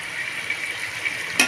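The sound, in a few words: stirring mutton paya in a pot with a spoon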